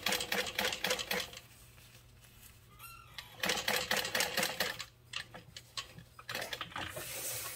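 A sewing machine stitching a Traudy Triangle bag in rapid rhythmic bursts of needle chatter, with a brief pause and a short whir midway, close and fairly loud, no talking.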